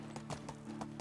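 Donkey hooves clip-clop in the medieval survival game Medieval Dynasty, about four quick hoofbeats within a second over a steady low game-music bed.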